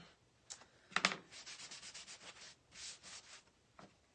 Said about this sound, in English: I am going to wax this. So I have my wax applicator and my wax.